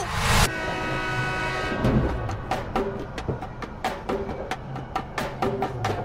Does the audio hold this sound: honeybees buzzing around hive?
no